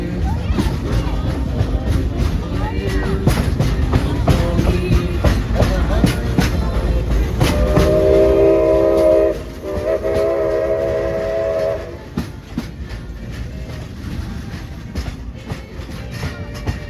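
Frisco steam train No. 14 running on a holiday sing-along ride, with a loud steady rumble and clatter throughout, a sustained whistle-like tone sounding for several seconds midway, and a crowd or voices mixed in.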